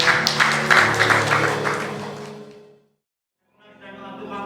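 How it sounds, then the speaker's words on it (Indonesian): A church congregation at a Sunday service claps loudly and steadily for about two and a half seconds, then fades to silence before music or voices begin faintly. "Berikan tepuk tangan yang meriah."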